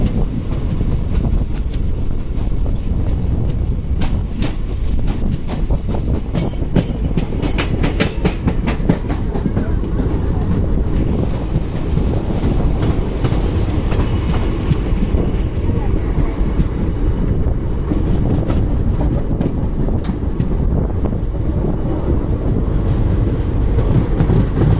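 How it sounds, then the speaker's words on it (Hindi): A train rolling into Lasur railway station on the Aurangabad–Manmad line, with a loud, continuous rumble and clickety-clack of wheels over rail joints. Wind buffets the microphone throughout. "तो हमारी ट्रेन लासूर रेलवे स्टेशन में इंटर होने वाली है"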